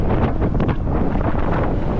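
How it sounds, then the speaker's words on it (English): Heavy wind roars and buffets the microphone continuously while cycling into a headwind, loud and steady with brief surging gusts. "It's a windy day. Got a lot of headwind."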